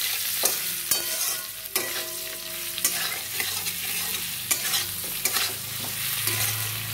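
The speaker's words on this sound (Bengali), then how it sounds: "এবার আলুটাই মশলার সঙ্গে যত একটু কষিয়ে নেব" Potatoes and paneer stir-fried with spices such as Kashmiri chilli powder, a constant sizzle underneath intermittent spatula scrapes and clicks against the pan, close by, with no one speaking.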